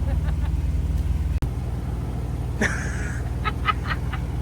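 An off-road vehicle idles and crawls on a hard trail at an OHV park, a steady low engine drone close by with a sharp knock and a few light rattles over it.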